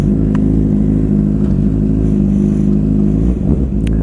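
A 2007 Suzuki GSX-R 600 sport motorcycle with 22,254 miles, out on a cold, wet test drive, gives a steady, loud, close engine drone with even harmonics throughout, briefly wavering near the end as the throttle shifts.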